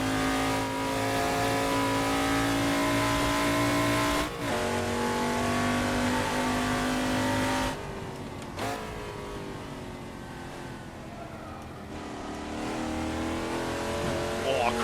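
A Ford XA Falcon race car screams around Bathurst in a video game, its engine revving hard and steadily, dropping in pitch at gear changes and climbing again, loud and continuous throughout.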